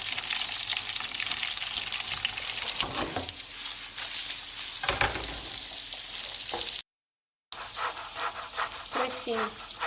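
Small diced pieces sizzle and crackle as they fry in a pan for fresh tagliatelle, a steady hiss broken by stirring and a few thumps, with a short dropout partway.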